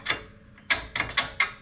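A ratchet wrench turns a bolt during a Dana 35 axle removal on a Jeep TJ, giving four or five sharp, close clicking bursts in quick succession.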